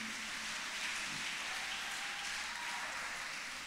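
Steady, dense applause fills a church as the congregation at Sunday Mass claps for the musicians, a continuous wash of hands with no talk over it.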